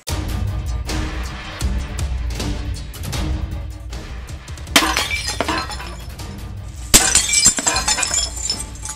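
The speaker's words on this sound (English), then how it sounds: "Today we pit a sledgehammer versus a toilet." A sledgehammer smashes a porcelain toilet in a series of heavy thuds and crunching breaks, with sharp shattering bursts of ceramic near the middle and end, loud and close with no talk.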